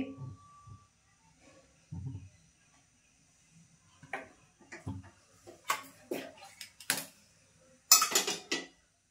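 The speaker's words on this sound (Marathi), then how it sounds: "टोप ठेवला आहे आता मी तापत, आणि टोपात तेल टाकते." A cooking pot set on a stove and oil added for a Malvani sardine curry, heard as scattered close metallic clanks and scrapes of cookware in a quiet kitchen, growing busier toward the end.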